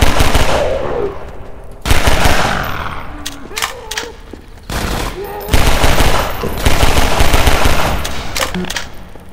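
The player's gun in Half-Life 2 Episode One fires in loud, rapid bursts that repeat through the stretch, close and dominant, with brief pauses between volleys and some game sounds and talk around them.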